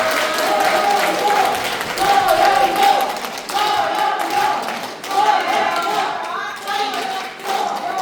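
A crowd in a lecture hall claps as a lawmaker arrives for a political party's invited talk, a broad, rolling applause that swells and dips while a voice speaks over the noise.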